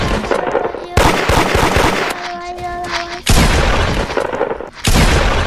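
Rapid bursts of gunfire from a combat video game, loud and close, coming in repeated volleys with brief pauses and a sustained tone between them.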